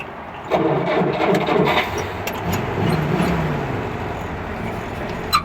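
A 1954 Willys Jeep engine cranking and catching on half choke, settling into a steady rough idle close by, with a small knock near the end.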